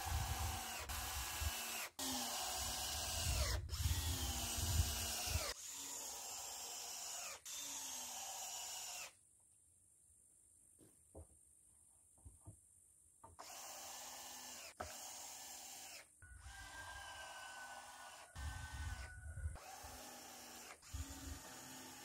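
A power drill drives screws into 2x6 rafters on a simple pole barn woodshed in repeated loud, close bursts with varying whine, broken by a few quieter pauses.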